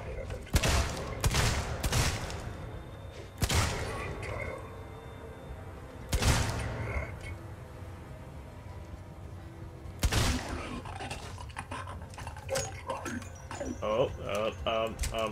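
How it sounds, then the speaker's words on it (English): Sharp gunshots fired at an alien in Alien Isolation, several separate loud bangs spaced a few seconds apart with echoing tails, with a voice talking between the shots. "Shoot it some more. Keep shooting it."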